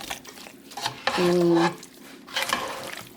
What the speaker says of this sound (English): I'm going to mix this thoroughly and let all the ingredients make friends.